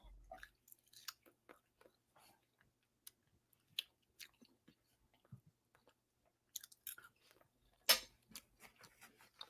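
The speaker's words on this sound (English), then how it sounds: "I could just hear you chewing." Quiet, close chewing comes through as scattered soft clicks and crunchy mouth sounds in irregular rhythm, with a louder crunch near the end and no talking.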